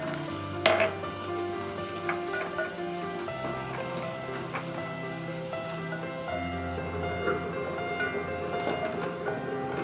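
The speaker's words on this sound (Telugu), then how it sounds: "బాగా వేగించుకోవాలి" Curry leaves and onions fry in a hot pan of oil for a bean masala curry, a steady, soft sizzle running throughout with a few scraping stirs, no voices.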